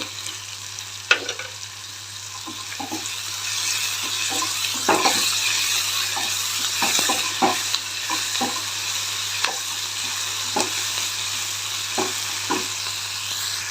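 Tempering for peanut chutney sizzles continuously in a pan, a steady bright hiss broken by scattered crackles and small clicks of a spoon, close by and without talk.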